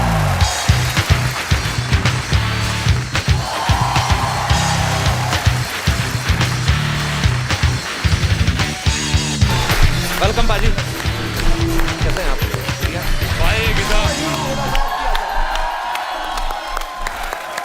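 A studio audience on The Kapil Sharma Show claps and cheers loudly to welcome actor Randeep Hooda, a sustained, dense wave of applause and whoops with a host's voice speaking over it before it dies away.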